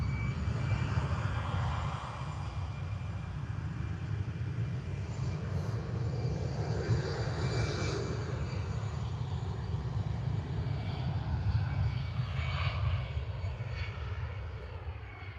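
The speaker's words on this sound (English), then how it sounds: "I can watch these planes push back then watch them taking off" An airliner turns and takes off at Liverpool Airport, a loud continuous jet-engine roar with a deep rumble that holds steady, heard alone from a nearby spotting position.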